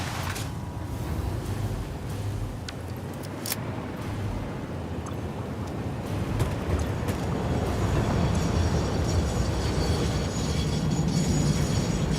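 A train in the video game Satisfactory rumbles continuously for several seconds, a dense mechanical roar that swells slightly louder toward the end, with scattered clanks and no voices.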